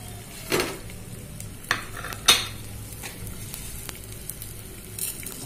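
Edible gum (gond) frying in ghee in a pan for laddoos, with soft background sizzle and a few sharp stirring scrapes and clinks from a spoon against the pan.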